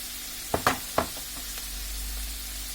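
Fried fish in a pan hiss steadily as half a spoon of turmeric powder goes in, with a few sharp spoon clicks early on over the continuous close sizzle and no speech.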